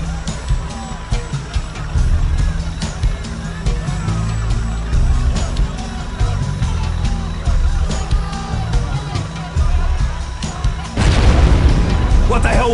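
Explosions boom in the Delta Force: Black Hawk Down video game during the Bandit Crossing mission, with a steady run of loud blasts and heavy rumble, then a sharper, harsher burst near the end.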